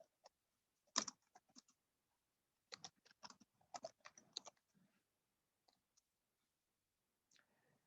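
Keystrokes on a computer keyboard while writing a document, in quiet irregular bursts of light clicks with short pauses, close and fairly soft.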